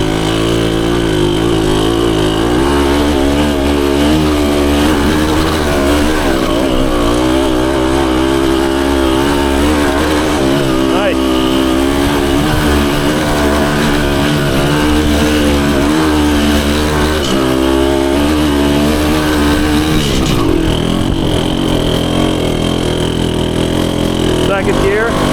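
A 1974 Honda MT250 two-stroke enduro motorcycle climbing a wooded trail in first gear, its engine loud and close, revving steadily with a buzzing, wavering pitch as the throttle rises and falls, someone talking over it.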